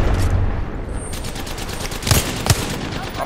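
Gunfire in the battle royale game Apex Legends: close bursts of shots crackle against a busy background, with two sharp, louder reports standing out near the end.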